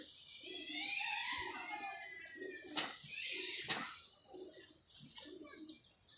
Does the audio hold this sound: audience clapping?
no